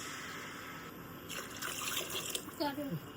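Water is poured into a pan of sprouted moth beans and peas for misal, a soft, faint splash and trickle lasting about a second, followed by quiet talking.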